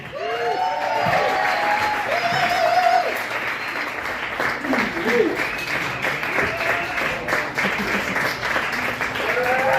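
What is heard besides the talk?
comedy club audience applause for the next comedian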